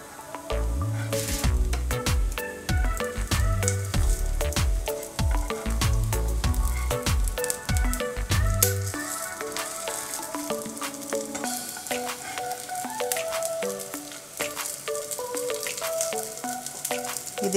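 A rawa vegetable pancake sizzles in oil in a pan just after being flipped, with clattering and scraping of the flip at first, then a steady soft crackle over light background music.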